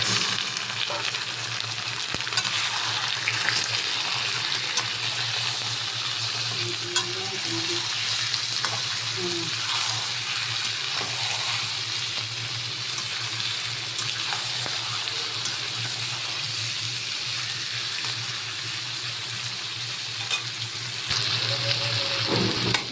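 Chicken meat fries in a pot for Haji-style chicken biryani, hissing and sizzling continuously, with occasional stirring scrapes breaking through the steady, close crackle.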